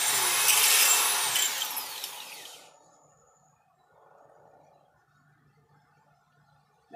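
A power tool spins at full throttle for spin art, a loud close whirring roar that holds for over two seconds, then cuts off and winds down into near silence with faint rattling.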